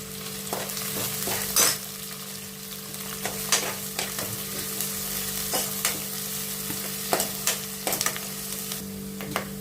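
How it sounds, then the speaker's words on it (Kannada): Bay leaf and green chilies fry in oil in a pan while being stirred, with a steady close sizzle and repeated scraping clicks of a spoon against the pan. "ಇದು ಪಲಾವ್ ಎಲೆ ಇದು ಒಂದು ಐದು ಹಸಿ ಹಸಿಮೆಣಸಿನ್ಕಾಯಿ ಹಾಕ್ತಿದ್ದೀನಿ ಇದಿಷ್ಟನ್ನು ಚೆನ್ನಾಗಿ ಫ್ರೈ ಮಾಡ್ಕೊಳ್ಳೋಣ"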